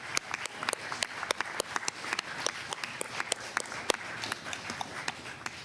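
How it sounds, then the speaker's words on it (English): Steady applause from an audience honoring award winners, many crisp overlapping claps forming a dense, continuous patter, fairly loud and close, with no voices over it. "Let's applaud the winners for their outstanding achievements."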